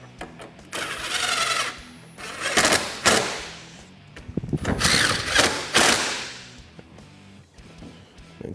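Power driver tightening hold-down screws on a Polaris General during a heavy duty radiator install, two or three close whirring bursts of a few seconds each, separated by clicks and knocks.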